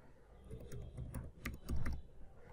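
Computer keyboard keys tapped in short irregular bursts while a password is typed, close and fairly quiet with faint background hum.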